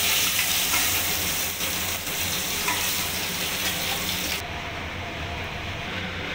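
Hilsa fish heads fry in hot oil with a steady, dense sizzle that holds loud and close throughout, its bright hiss dropping away abruptly near the end.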